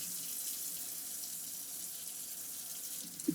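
Lukewarm water runs steadily from a tap into a sink, a continuous hiss and splash at moderate level, with a small knock right at the end.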